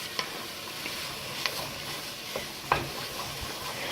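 Onions fry quietly in a pan for crack noodle soup, giving a faint steady sizzle with a few soft stirring clicks.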